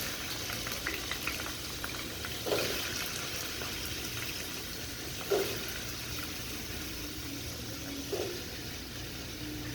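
Cubed potatoes, rinsed in water, go into a hot frying pan and sizzle with a steady, bubbling fry, with a few brief louder spatters along the way.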